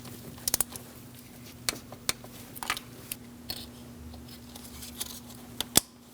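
An ignition coil is pressed onto a spark plug in a 2006-2011 Chevrolet HHR 2.4L four-cylinder engine, giving a series of crisp, close clicks and small snaps spread over a few seconds, with no voices.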